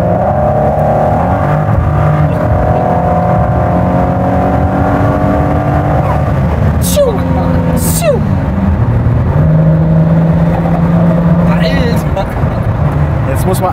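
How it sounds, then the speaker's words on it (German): A Ford GT sports car runs its turbo engine on a very wet road, a steady droning engine note with rising revs and whooshes of water spray, heard from inside the cabin under ongoing talk. "Es macht so von allem ein bisschen Luft, Turbo, Motor, auch Wassergeräusche jetzt"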